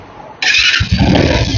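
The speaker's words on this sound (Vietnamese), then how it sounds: "Mình sẽ khởi động nhé." A vehicle engine cranks and catches after its battery has been charged, a sudden starter whine followed by the low rumble of the engine settling into a steady idle, loud and close.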